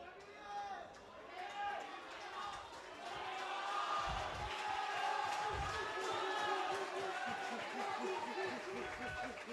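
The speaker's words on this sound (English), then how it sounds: "All you hear is the crowd support for the final play of the day" Crowd at an under-18 schools rugby sevens match in Pallekele cheering through a final play, a swelling roar of shouts and whoops that grows louder midway, with commentary talk running over it.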